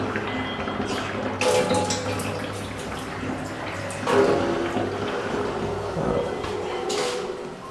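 Water running from the pipe of a kitchen water tank during an old kitchen remodel in Chennai: a steady, moderately loud rushing flow with a few knocks, while someone talks over it.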